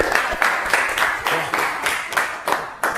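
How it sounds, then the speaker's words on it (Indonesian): A small group in a classroom session on Islamic inheritance law claps in several short, rhythmic bursts, fairly close and loud, with a brief voice in between. "tepuk tangan dulu teman-teman"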